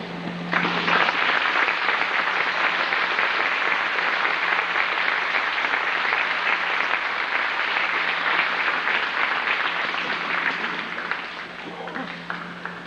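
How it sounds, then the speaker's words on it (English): A big, sustained round of applause from the crowd at a Veterans' Day high school assembly, steady and dense for about twelve seconds before tapering slightly at the end. "I would like to take a second to give you each a big round of applause"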